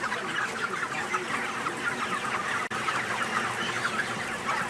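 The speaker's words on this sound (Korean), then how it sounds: "이곳의 닭은 모두 건강하고 활기차 보였다." Chickens cluck in a dense, steady chorus inside a poultry house, many birds overlapping at close range with an occasional louder squawk rising out of the flock.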